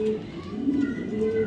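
Racing pigeons give low, soft coos close by, and someone talks over them.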